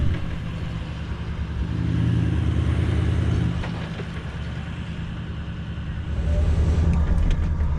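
A vehicle engine strains steadily while dragging a 2.5-ton trailer with stuck electric brakes through soft sand, a continuous low rumbling drone that swells louder in two stretches, close with no talk.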